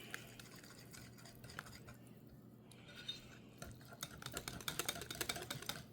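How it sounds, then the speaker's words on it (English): A whisk stirs gravy mix in a slow cooker, making quiet clinking and scraping against the pot that quicken into rapid, rhythmic ticking near the end, close but faint, with no talking. "I'm going to take a whisk and mix it"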